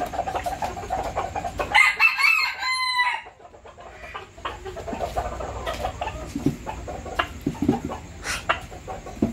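A rooster crows nearby, a loud drawn-out cock-a-doodle-doo, followed by quieter clucking and scattered farmyard fowl sounds, with a faint steady background hum.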